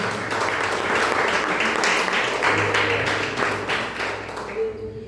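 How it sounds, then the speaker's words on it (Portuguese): Churchgoers clap for Jesus in a worship service, a continuous wash of hand-clapping with a low hum and voices underneath, easing off toward the end. "Deus dê salve de palmas para Jesus, amém?"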